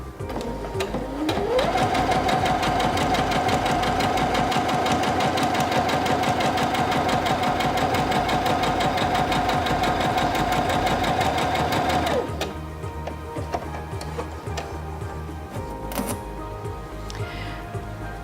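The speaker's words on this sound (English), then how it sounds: "Place your fabric underneath the presser foot, lower the presser foot, and then step on the foot control to start sewing." A Singer Featherweight C240 electric sewing machine stitches fabric in one continuous run of fast, even motor whirring and needle clatter for about ten seconds, then stops, leaving only quiet handling noises.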